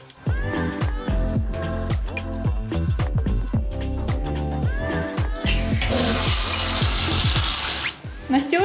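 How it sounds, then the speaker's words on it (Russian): A bathtub fills from the tap in a home bathroom, a loud, steady rush of running water in the latter half, preceded by clattering and household movement. "Я как раз набираю воду в ванну"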